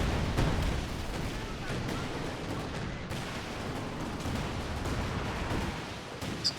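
Sustained artillery barrage in a competitive team match of a WWII strategy video game, a dense continuous rumble of booming shell impacts filling the whole stretch at steady loudness, with voices faintly underneath.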